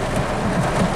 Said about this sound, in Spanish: por lo menos hay lluvia y es lindo el auto con lluvia